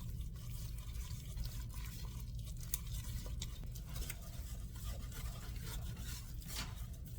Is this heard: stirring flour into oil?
yes